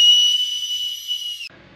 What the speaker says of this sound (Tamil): இந்த விசில் ஊதி பாரு செம்மையாக இருக்கும்